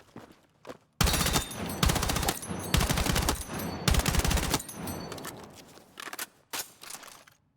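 Loud automatic weapon fire from the video game Battlefield 6 rattles out in several rapid bursts with brief gaps between them, close and dominant, following a quiet moment with faint steps.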